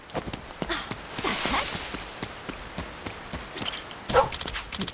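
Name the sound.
dog barking in video game Like a Dragon Infinite Wealth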